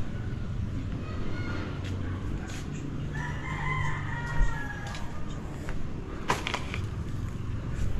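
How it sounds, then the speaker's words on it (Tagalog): A rooster crows once in the middle distance, a drawn-out call that rises and falls, over a steady rumble of outdoor background noise with faint scattered knocks. "Mayroon na ulit tayo ditong barakong manok"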